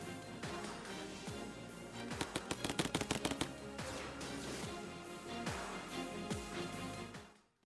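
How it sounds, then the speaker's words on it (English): Artillery fire in the video game Mechabellum: a dense run of booming impacts and rapid cracking blasts, with a tight rattling burst in the middle, loud and continuous before fading out at the end. "Oof. Artillery hits hard."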